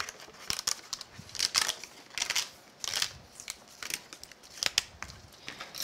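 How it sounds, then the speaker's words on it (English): Removable tape peeled slowly off embossed craft paper, a series of crisp crackling, tearing rasps in short bursts, close and fairly quiet, with no talking. "I'm going to peel up carefully the removable tape"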